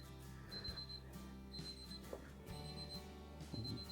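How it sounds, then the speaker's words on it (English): A wireless meat thermometer alarm signals that poultry has reached 165 degrees, giving four evenly spaced high-pitched beep bursts about once a second, faint and steady over a low background hum, with no talking. "you can hear the alarm going off behind me"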